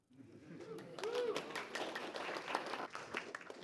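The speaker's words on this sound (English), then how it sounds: "Seriously, I heard applause and not a guess." A conference audience claps in a continuous, moderately distant round of applause at the close of a session of lightning talks, with faint voices mixed in.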